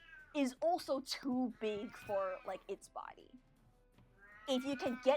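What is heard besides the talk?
cat meowing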